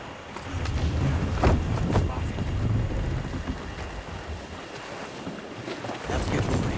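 The sailing ship Jackdaw at sea in Assassin's Creed IV Black Flag, a steady roar of wind and rushing water against the hull with creaking, continuous and fairly loud throughout.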